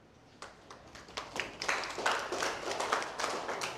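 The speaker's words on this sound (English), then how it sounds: "Why did I clap for you?" Hands clap during a chef's master class at a hospitality institute, starting as a few scattered claps and building into quick, steady group clapping, moderately close.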